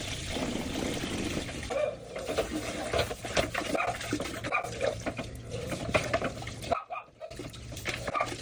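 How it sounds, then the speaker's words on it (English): Water runs steadily into a drain line being jetted in a finished basement, a continuous pouring and trickling wash with faint background noise and a brief dropout near the end. "I'm still putting water in this line"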